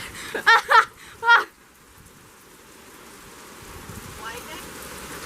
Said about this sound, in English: the rain is going like 45